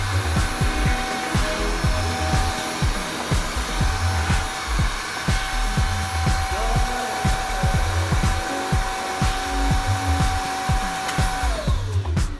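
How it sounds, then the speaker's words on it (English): A Shark XSBT6200 cordless vacuum cleaner runs with a steady, loud motor whine and a constant high tone, then the pitch drops as it winds down near the end. "Push the power button to turn on the vacuum cleaner."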